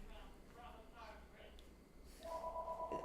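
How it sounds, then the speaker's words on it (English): A telephone rings indoors with a steady electronic ringing tone in the second half, fairly faint beneath a person talking. "Should I keep reading this while the phone is ringing?"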